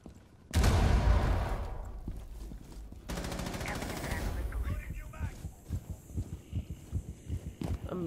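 Rapid gunfire bursts in the tactical shooter game Rainbow Six Siege, a loud sustained volley followed by a second burst, then scattered shots and thuds trailing off.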